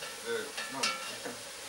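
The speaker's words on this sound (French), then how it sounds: "On va ajouter le lard," Bacon lardons sizzle faintly in a pan, a low steady crackle with a few soft scraping touches as they settle in the fat.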